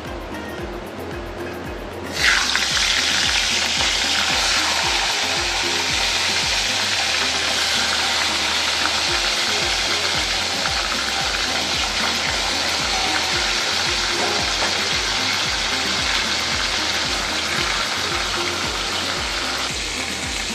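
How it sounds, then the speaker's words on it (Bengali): Hilsa fish heads hit hot oil and burst into a loud sizzle that holds as a strong, steady frying roar, close and unbroken for the rest of the stretch, with no speech. "তেলটা আমার গরম হয়ে গেছে, আমি এবার মাছের মাথাগুলো ছেড়ে দিচ্ছি"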